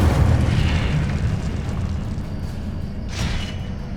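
Incendio fire spell cast in Hogwarts Legacy, a sustained roaring whoosh of flame with a low rumble, then a second brighter burst near the end.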